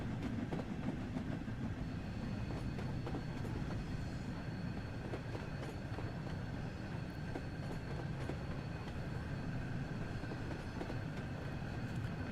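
A steam train in Train Sim World 2 rolls toward Leland station with a continuous rumble and repeated rail clicks, steady and close throughout.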